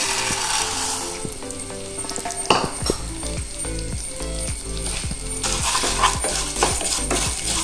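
Vermicelli roasting in a pan, a continuous close sizzle with a busy layer of rattling, clicking stirs and metallic scrapes throughout, with no voices.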